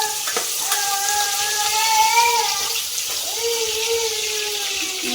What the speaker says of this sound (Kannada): ಈರುಳ್ಳಿ ಹಾಕ್ತೀನಿ. ಇದು ಚೆನ್ನಾಗಿ ಫ್ರೈ ಆಗುತ್ತೆ